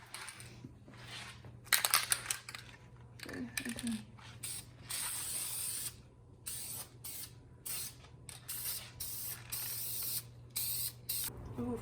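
An aerosol spray can coats a Brembo brake caliper in bursts of hissing spray, close and fairly quiet, broken by pauses, can rattles and clicks, with faint talk in between.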